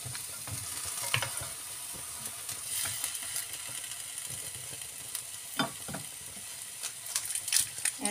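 Beans for vegetable lumpia are stirred in a pan, soft sizzling with intermittent spoon scrapes and taps, quiet and close, without any talking.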